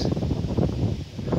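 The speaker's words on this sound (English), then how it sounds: "it is so windy up here" Strong wind on top of Marshall Mountain in Virginia buffets the microphone, a continuous low rumbling roar with a fainter breathy hiss above it and no talk.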